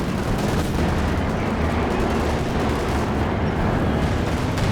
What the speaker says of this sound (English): Major artillery coming down here